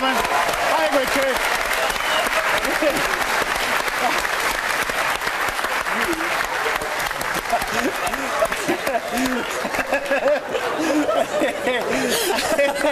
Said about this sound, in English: I think we could give John a round of applause to sit down